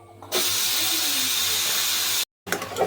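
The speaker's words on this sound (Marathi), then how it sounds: "म्हणून मी हवा बाहेर सोडून देत आहे कुकरची." A pressure cooker of cooked dal vents steam in a loud, steady hiss that starts abruptly and holds for about two seconds, cuts out briefly, then resumes.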